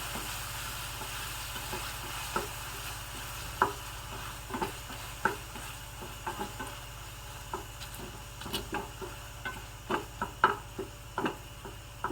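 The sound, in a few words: sautéing vegetables with salt in a pan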